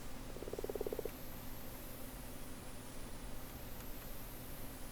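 A frog in a Minecraft world gives one short, buzzy croak near the start, then a quiet steady hiss of game ambience continues with no talk.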